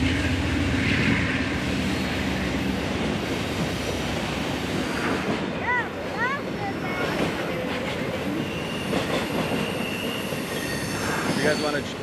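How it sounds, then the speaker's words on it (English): A freight train rolls through the Mini Hoosac tunnel near North Adams, a steady loud rumble of rail cars with a few brief wheel squeals and clicks partway through, continuous for the whole stretch. "We just saw a train come through the Mini Hoosac."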